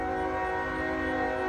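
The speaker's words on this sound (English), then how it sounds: "this is Norfolk Southern Train 821, bound for Weller Yard" Norfolk Southern freight train 821 in Richlands, Virginia sounds its horn. A loud, sustained multi-tone blast holds steady throughout over a rumbling low background, with no talking.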